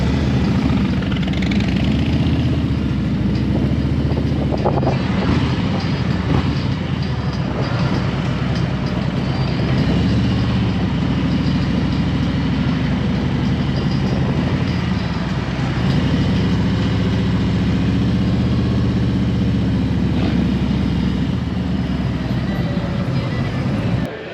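Harley-Davidson motorcycles pull in and idle nearby, a loud steady low engine rumble with slight rises in revs running throughout, with some talk over it.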